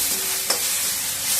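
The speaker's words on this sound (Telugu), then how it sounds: "పచ్చిమిర్చి బాగా వేగింది." Green chillies frying in a hot pan are stirred, giving a steady close sizzle with a single brief scrape of the spatula partway through.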